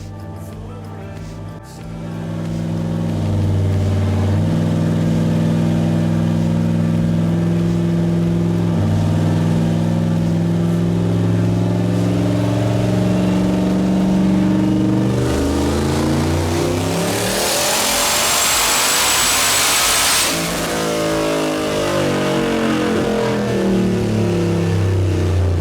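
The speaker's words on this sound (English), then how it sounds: "So here's the first hit on wastegate, 13 PSI with a misfire." A turbocharged LS-swapped Volvo wagon screams through a loud dyno pull on wastegate at 13 PSI, engine note climbing steadily with a rough, stuttering misfire, then a sharp whooshing burst near the top before the revs fall away.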